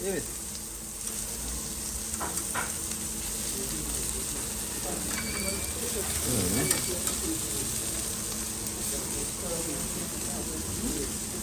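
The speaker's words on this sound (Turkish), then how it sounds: "Köftemizi devamlı çevireceğiz pişmesi için." Köfte meatballs fry with a steady, close sizzle on a hot surface, with brief stirring and scraping as they are turned, and talking is heard over the cooking.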